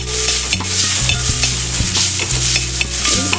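A spoon stirs crushed coconut into sautéed chicken in a hot pan for Kerala chicken thoran, with steady close sizzling and a series of scraping, clattering strokes against the pan, no talking.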